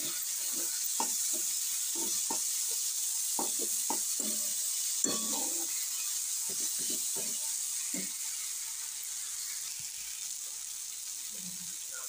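Potatoes and capsicum frying in a kadai over a low flame, a steady hiss of sizzling oil broken by scattered scraping and clinking of stirring, close and without talk.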